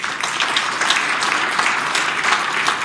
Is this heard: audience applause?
yes